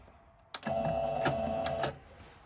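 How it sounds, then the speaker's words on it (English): Sewing machine stitching a trouser pocket on Sew House 7 slacks, with one short steady run of the needle that starts abruptly and stops after about a second and a half. "So we're going to do a little stitch and then a quick back stitch."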